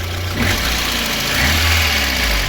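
A VAZ 21099 car engine idles close by with a steady low rumble and rhythmic mechanical rattling from noisy pistons, rising slightly in revs midway.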